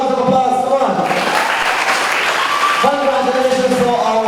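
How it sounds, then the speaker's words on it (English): An audience claps at a school graduation ceremony. The applause swells in the middle of the clip, and a voice speaks over it at the start and at the end. "Round of applause, come on."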